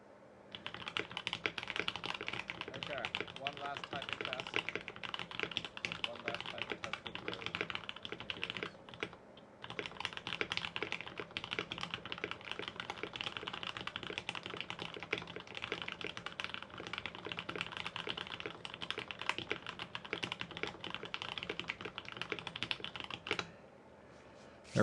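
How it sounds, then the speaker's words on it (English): Rapid, continuous typing on a KBD67 Lite mechanical keyboard during a typing test, a dense stream of clacky keystrokes with one short pause midway before it stops abruptly. "Okay, one last typing test. One last typing test for the road."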